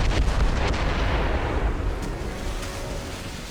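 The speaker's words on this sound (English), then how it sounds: "They're within mortar range, that's all I know!" Mortar artillery fire in Assassin's Creed Rogue, a naval battle in snowy northern waters: dense, rumbling booms with a sharp crack near the start, then a sustained low roar that slowly fades over a few seconds.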